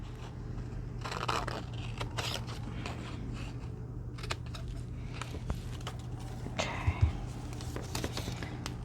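Scissors snip through fabric scraps for belly bands, a close series of irregular crisp cuts and rustles over a low steady hum, with no talking.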